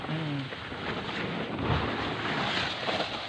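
A coffee cherry pulper machine runs during coffee processing in Garut, Indonesia, making a loud, steady, rushing mechanical roar that fills the whole stretch with no clear voices.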